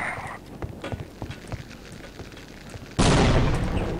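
Grenade in Half-Life: Opposing Force going off as a single sudden loud blast that fills the end of the clip, after a stretch of faint scattered thumps.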